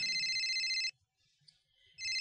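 A cellphone ringtone rings loudly in a steady, repeating electronic pattern, breaks off for about a second of near silence, then starts ringing again.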